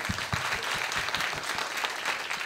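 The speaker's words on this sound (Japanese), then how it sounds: "拍手でお迎えください" Audience applause welcoming an artist onstage at a talk event, continuous crowd clapping with a few sharper claps near the front, steady and fairly loud throughout.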